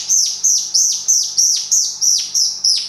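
A wooden bird-call whistle with horsehair inside imitates a robin, sounding a rapid, repeating series of high, bright chirps, each dropping in pitch, loud and close with no talking.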